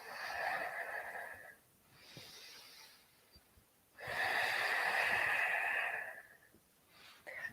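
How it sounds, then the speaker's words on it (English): Deep belly breathing during hip stretches for jiu-jitsu, heard as two long, loud, hoarse breaths close to the mic, separated by quieter gaps. "Big full belly breaths."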